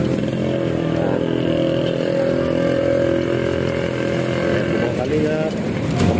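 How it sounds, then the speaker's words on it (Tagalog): A motorcycle engine idles and runs close by, a constant low rumbling drone that never lets up, with people talking over it outdoors. "Ganda ng motor ni sir, oh."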